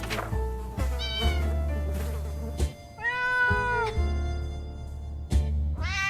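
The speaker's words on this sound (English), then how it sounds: "It meows! That's adorable!" Cartoonish cat meows from the survival video game 60 Seconds, several short pitched mews in a row over a steady low game-music bed, clear and close with no talk.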